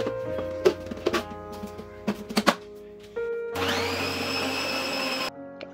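An electric chopper whirs loudly for about two seconds as it cuts onion and carrot, preceded by scattered clunks and taps of loading the bowl, then stopping abruptly; no talking.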